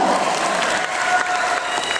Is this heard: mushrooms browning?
no